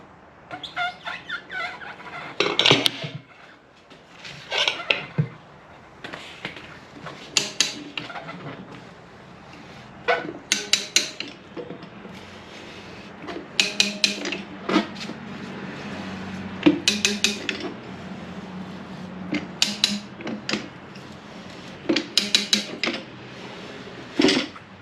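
A ratchet works on a Rabaconda tire changer to remove a Dunlop D402 tire from a solid disc wheel, sounding as repeated close bursts of sharp clicking separated by short pauses, with no talk.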